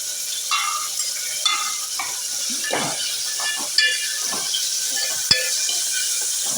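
Coconut pieces and onion frying in a pan for a sweet Kerala snack, with a steady light sizzle and hiss beneath several sharper stirring scrapes and clinks of a spoon against the pan.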